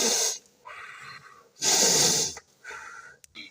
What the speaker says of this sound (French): Pourquoi est-ce qu'on doit renifler?